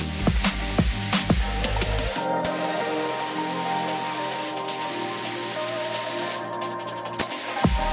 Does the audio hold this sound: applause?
no